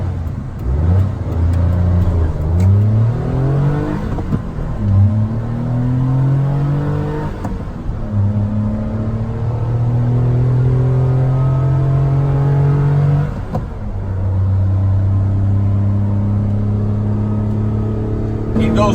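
1990 Mitsubishi MiniCab kei van with a five-speed gearbox driving in traffic, its small engine revving up through repeated gear changes, loud and close inside the cab.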